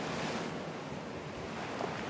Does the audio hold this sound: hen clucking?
no